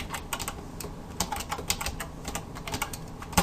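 Rapid, continuous clicking of keys on a computer keyboard, close and even in rhythm, with a slightly louder keystroke near the end.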